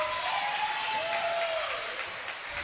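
A high school volleyball crowd in a gym reacting to a referee's call, a brief wash of cheering and clapping with a whistle-like tone gliding through it, moderately loud and fading toward the end.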